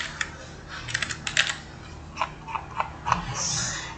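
Typing on a computer keyboard while filling in a document form: scattered clicking keystrokes in irregular bursts, close and moderately loud, with no talking.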